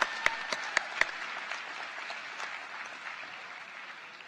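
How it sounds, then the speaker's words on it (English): Audience applause for a university concert band at a winter commencement ceremony, a steady wash of clapping with a few sharp louder claps near the start, sustained at moderate level without voices. "Please give them another round of applause."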